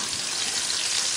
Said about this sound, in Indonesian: Sekarang kita mau tumis bumbu-bumbunya pakai minyak bekas goreng ayam tadi